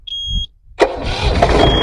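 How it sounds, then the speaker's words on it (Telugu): A short electronic beep, a brief pause, then a Mahindra jeep engine cranks and catches, settling into a steady, close running rumble. "ఒకసారి ఇంజన్ స్టార్ట్ చేయనా"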